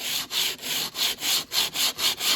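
Sandpaper held flat rubs back and forth along a wooden project part's edge in eight steady, even strokes, close and fairly loud.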